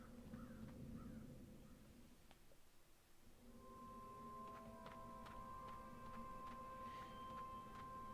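Crow in Dreamfall: The Longest Journey giving a few sharp caws, fairly close, over a low ambient game drone with soft tonal chimes and ticking accents.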